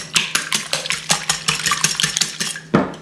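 Three eggs whisked by hand in a bowl for a pie filling, a quick series of sharp rhythmic clinks and taps of the whisk against the bowl, close and clear with no talking.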